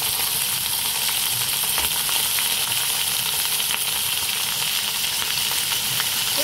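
Potatoes sizzle steadily in a hot pan while cooking in a vegetarian ivy gourd curry, a constant close crackle without a break.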